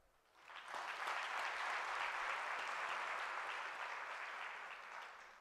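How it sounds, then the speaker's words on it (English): An audience at a University of South Africa autumn graduation ceremony breaks into applause, a broad wash of clapping that swells quickly, holds steady for several seconds and then eases slightly, heard from a distance within a large hall. "give you a big round of applause for the studying job that you have done"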